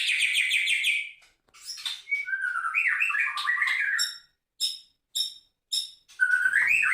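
Bright, varied birdsong from a white-rumped shama up close: rich whistled phrases and trills, then several short sharp chirps separated by brief pauses, with no voices present.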